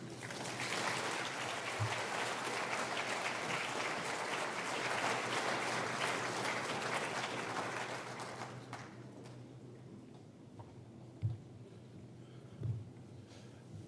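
An audience applauds a speaker onto the stage at a lecture on independent counsels and the Constitution. The dense clapping holds steady for about eight seconds, then fades to a few scattered claps.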